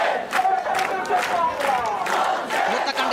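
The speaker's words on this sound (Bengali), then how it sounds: "9 দফা দাবি বাস্তবায়নের পক্ষে যে স্লোগান সেই স্লোগান তারা দিচ্ছেন" Protesters at a street rally in a Bangladeshi market chant slogans together, a dense, steady wall of massed voices with rhythmic shouted phrases rising and falling throughout.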